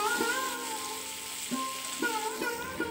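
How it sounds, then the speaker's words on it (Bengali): Pointed gourd (potol) fries in hot oil with turmeric, giving a steady sizzle broken by a few soft knocks and stirring sounds from the pan, close and with no talking. "এই যে আমার পটলগুলো কি সুন্দর ভাজা হয়ে গেছে। এবার আমি একে একে তুলে নিচ্ছি পটলগুলো।"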